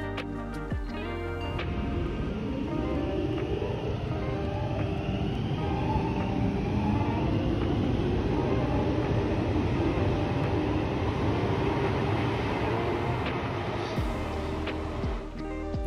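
A Helsinki Metro train running on its line, a loud steady rumble with rolling wheel and motor noise lasting throughout, swelling slightly mid-run and easing near the end.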